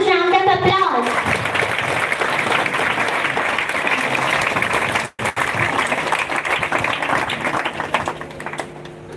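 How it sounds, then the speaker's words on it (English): At an Independence Day celebration, a crowd breaks into loud sustained applause to welcome a speaker, following a brief spoken introduction, with dense clapping that continues to the end and fades slightly. "Please welcome him with huge round of applause."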